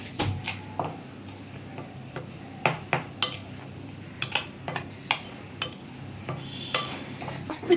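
Vegetable chop mixture being mixed with turmeric in a bowl: close, uneven clicks and taps of a utensil against the bowl with soft squishing in between, irregular rhythm, fairly quiet, no talking.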